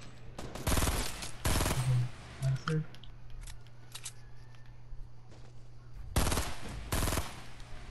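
Gunfire rings out in the video game Fortnite, several bursts of sharp rapid shots near and loud with quieter gaps between them.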